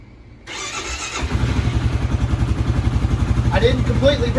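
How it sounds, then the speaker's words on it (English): After an idler bolt repair, a motorcycle engine is cranked with the key, catches after a brief starter whir and settles into a steady, pulsing idle nearby. A voice speaks briefly over it near the end. "It's time to hit the key and make sure it still does motorcycle things."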